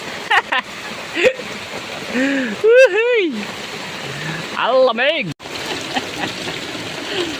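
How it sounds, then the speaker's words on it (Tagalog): Heavy rain pours down on a flooded street as a dense, steady hiss beneath loud, excited voices that shout and talk over it. "Biglang lumakas ang ulan."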